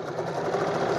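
A sewing machine runs steadily, stitching fabric with a continuous, dense mechanical whir close by, alone without talk.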